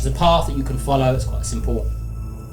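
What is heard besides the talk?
No distinct noise like a dog, phone or traffic.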